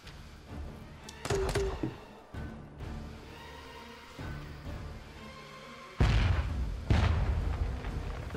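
Mortar fire and explosions in Jagged Alliance 3: scattered thuds and booms over a low battle rumble, with heavier blasts toward the end and no speech.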